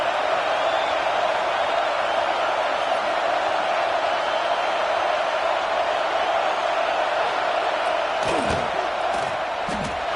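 A stadium crowd in a college football video game roars steadily as a field goal kick approaches, a dense, loud, continuous wash of noise with a few sharp thuds near the end.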